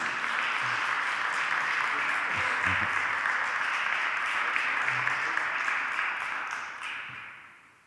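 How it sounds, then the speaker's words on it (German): Sustained applause in a city council session, a dense steady clapping that holds for several seconds and then fades out, with a few faint low knocks mixed in. "Viel Beifall für Herrn Krüger."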